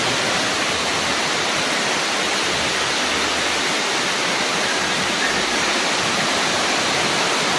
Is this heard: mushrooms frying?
no